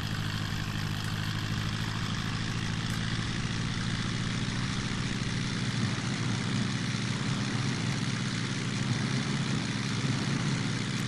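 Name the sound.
aircraft engine on takeoff roll, in Prepar3d flight simulator game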